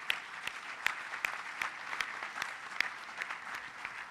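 An audience claps steadily at a Brazilian liberty forum panel, with moderately loud, even applause and a few sharper hand claps standing out from the crowd.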